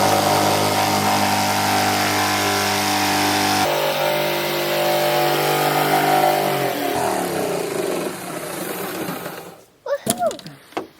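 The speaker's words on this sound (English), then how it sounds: "I think I'm going to go get my jigsaw, and this one is going to go a lot quicker." A power tool buzzes loudly and steadily at close range, shifting pitch a couple of times as it cuts the top off a barrel, then winds down to quieter handling sounds.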